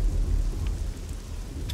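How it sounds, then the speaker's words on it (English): Thunderstorm in the video game Scum: steady rain hiss with a low, rumbling thunder roll, loud and continuous with no talk. "That storm's gonna get in the way the entire time."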